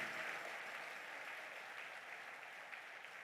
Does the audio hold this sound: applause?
yes